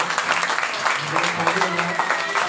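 Listeners at a devotional talk on Sri Caitanya Bhagwat in Jaipur clap, a moderate patter of applause with some voices audible underneath.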